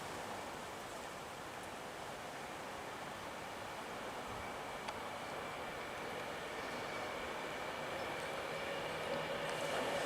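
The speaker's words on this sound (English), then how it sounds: "Approaching us is a Pendolino, and I think this is heavily delayed" A Pendolino passenger train, a class 390, approaches at South Hampstead as a steady, broad rumble that grows slowly louder without clear peaks.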